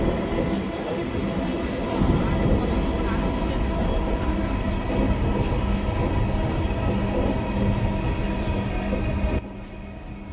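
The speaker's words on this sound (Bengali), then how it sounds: "আমি বাংলাদেশের একটা মেট্রো রেলে চড়তেছি" A crowded Dhaka metro rail train runs with a steady, loud rumble and rushing roar heard from inside the car, with faint voices of passengers beneath it, easing slightly near the end.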